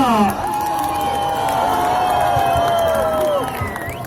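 A concert audience at a band's show in a small Ukrainian town cheers and whoops with scattered clapping, a continuous crowd roar with a sustained tone running through it, fading slightly toward the end.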